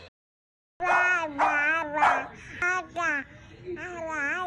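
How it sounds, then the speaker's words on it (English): Dog barking behind a baby in a Pixel 8 Pro demo recording: several close, loud barks and yelps in quick succession mixed with a baby's voice. "they recorded a baby, and in the background there was a barking dog"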